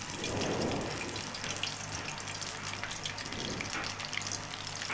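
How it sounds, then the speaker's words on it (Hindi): Besan-dipped fish pieces go into hot oil and fry with a dense, steady hiss and fine crackle that swells slightly as more pieces drop in. It is close and continuous, with no voices. "और अब पीसीस को डिप करते जाएंगे और गरम ऑयल में डालते जाएंगे।"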